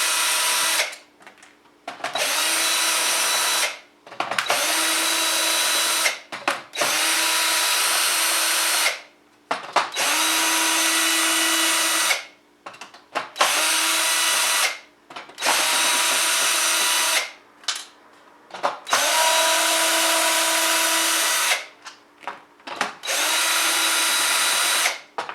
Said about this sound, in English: if you're using a screwdriver or a drill